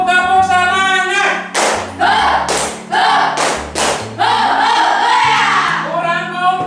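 A classroom of students claps in rhythmic bursts for a 'tepuk semangat' spirit cheer, with sharp clusters of group claps between chanted voices over a low steady background tone.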